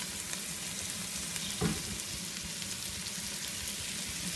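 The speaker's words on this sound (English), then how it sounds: "it's okay now if it starts to really sizzle on you" Ground meat browning in a pot for a Greek-style bolognese gives a steady, close sizzle and crackle throughout, with one brief louder stir or scrape partway through and no talking.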